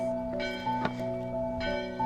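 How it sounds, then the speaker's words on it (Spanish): Church bells ring outside the Basilica of the Beatitudes in the Holy Land, sustained tolling tones hanging over a steady ambient hum, moderately distant, with no one talking. "Qué hermoso escuchar aquí las campanas de nuestra fe, las campanas que nos recuerdan también el misterio de Cristo."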